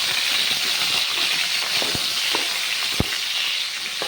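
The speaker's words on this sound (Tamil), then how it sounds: "இப்போ இந்த எல்லா கத்திரிக்காயும் நம்ம வணக்கி எடுக்க போகிறோம் எண்ணெயிலே வதக்கிடுவோம்" Cut eggplant sautéing in oil inside a clay pot, a steady close sizzle and frying hiss throughout with a few sharp clicks of stirring, no voices.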